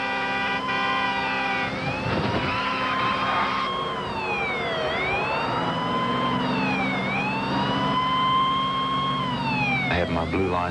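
A police car siren wails continuously and loudly during a high-speed chase down a highway, the tone sweeping up and down in repeated cycles while the vehicle is on the move.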